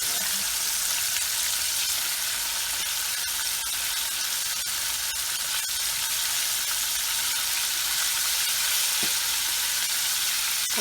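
Chicken popcorn deep-frying in hot oil, a dense, steady bubbling sizzle heard close and loud throughout, with a few faint clicks.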